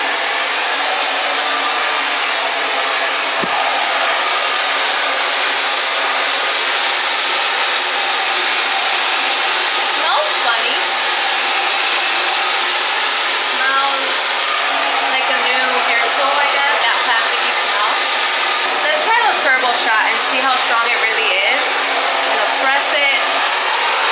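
A blow dryer with a Ferrari-designed engine runs on its highest heat and speed setting, a loud, steady, close whooshing roar throughout, with no talk over it.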